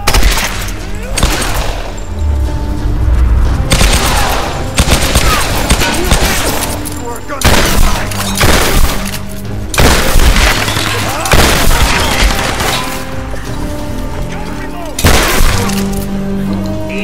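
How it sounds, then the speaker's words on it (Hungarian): Rapid, loud bursts of enemy gunfire with booming impacts and shattering debris in a jungle-ruins firefight from Tomb Raider 2013, dense and continuous for the whole stretch with brief gaps. "Most ez onnan lövöldöz"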